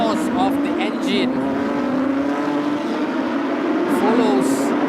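Porsche race cars at Sepang International Circuit on a formation lap behind the safety car, engines droning steadily at close range while a commentator talks over them.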